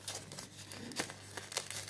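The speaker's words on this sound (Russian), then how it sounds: "Так, сейчас пакетик там порвется. Тут у нас пакетик в пакетике." A plastic seed packet of viola seeds crinkles and tears as it is opened, with quiet close-up rustling and a few sharper crackles.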